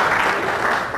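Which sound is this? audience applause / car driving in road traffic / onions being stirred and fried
audience applause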